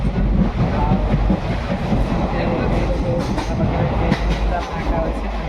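A passenger train runs through the night toward Balasore station in Odisha. The carriage gives a loud, continuous low rumble with rhythmic clickety-clack of wheels over rail joints and faint metallic rattles.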